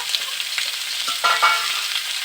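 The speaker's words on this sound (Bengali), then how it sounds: "কেটে রাখা কলাটা আমি এর মধ্যে দিয়ে দিচ্ছি। এগুলোকে আমি একটু ভালো করে ভেজে নেব।" Cut banana pieces frying in oil in a pan for a banana, papaya and rohu fish curry: a steady, close sizzle broken by a few soft stirring scrapes.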